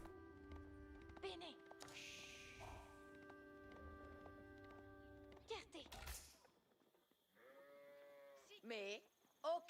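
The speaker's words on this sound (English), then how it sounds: "Lots of sheep." Sheep bleating in a strategy video game, with a few short wavering bleats near the end after a stretch of layered game sounds and tones, under occasional speech.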